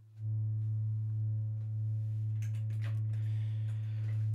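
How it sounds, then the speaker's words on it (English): A simple sine wave from a modular synthesizer oscillator hums as a steady, low, unbroken tone. It stays at an even level throughout, with a few faint clicks and light noise around it. "I started with a simple sine wave."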